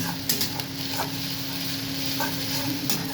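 Onion, ginger and garlic frying and stirred in a pan, giving a constant close sizzle with a low steady hum and a handful of brief spoon scrapes and taps scattered across the short stretch.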